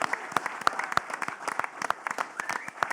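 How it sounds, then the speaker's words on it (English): A press-conference audience applauds for Tony Ferguson before the Misfits 22 Darren Till vs. Luke Rockhold bout. The claps are sparse and crisp, each one distinct, over a faint murmur of voices. "Can we have a round of applause for Tony Ferguson"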